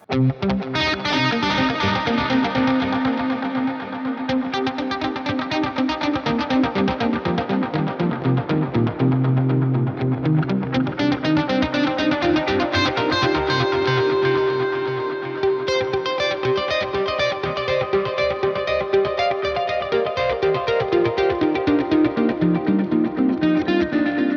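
Heavily distorted electric guitar through an impulse response, not a cabinet, plays a continuous riff with thick chords and a dense, processed tone, loud and steady throughout with no voices.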